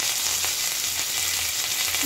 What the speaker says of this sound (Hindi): हमें ये करी पत्ते और हरी मिर्च का मॉइस्चर खत्म करना है, इसको हल्का सा फ्राई कर लेते हैं।